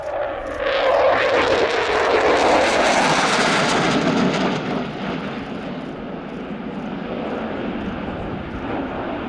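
A fast military jet roars past at an air show, the loud rushing engine noise rising and then sweeping away into a long fading rumble, with no voices over it.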